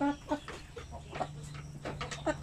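Hens on a small Filipino poultry farm cluck in short, soft bursts, faint and scattered, while someone talks over them.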